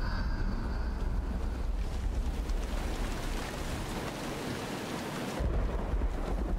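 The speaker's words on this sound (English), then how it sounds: "Oh, here comes the rain again." Rain pours steadily in the video game Uru: Ages Beyond Myst, a dense hiss with low rumbling beneath, easing slightly midway before swelling again near the end, with no voices.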